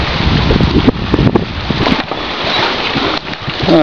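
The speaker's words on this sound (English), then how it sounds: "But alas, it's windy." Loud, blustery wind buffets the microphone at a lodge harbor on Lake of the Woods, with roaring low rumble and gusty swells throughout, no talking.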